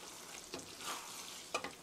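Spaghetti with tomato sauce and a ladle of pasta water being stirred in a pan, giving soft wet sloshing and a faint sizzle, with a couple of brief utensil scrapes near the end.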